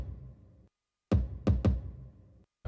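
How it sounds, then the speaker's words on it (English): A second kick drum sample plays alone from a beat, a few punchy low thumps in an uneven pattern with short gaps, loud and close with no talking. "And I decided to layer it with another kick which sounds like this."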